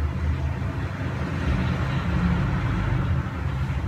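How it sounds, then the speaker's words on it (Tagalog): Road traffic rumbles on continuously as many vehicles pass, a dense, steady low roar of engines and tyres, close and fairly loud with no voices. "Dami sasakyan."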